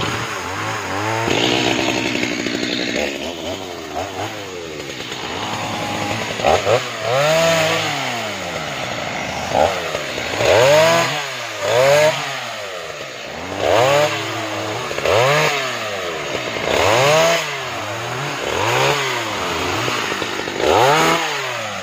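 A Stihl MS 180 chainsaw cuts firewood, loud and close, its engine rising and falling in repeated revving bursts as it bites into the wood.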